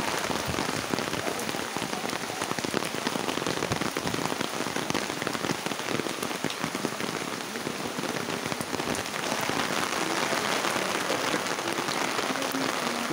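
Heavy rain pours steadily onto a street flooded knee-deep, a dense, even hiss of drops and splashes close by that never lets up, with no talking.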